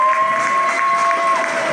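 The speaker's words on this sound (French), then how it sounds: "est-ce qu'on peut applaudir Bijou Sinal?" Crowd applauding Bijou Sinal at the Lumières du Congo awards ceremony in Paris, loud continuous clapping with some cheering mixed in, steady throughout.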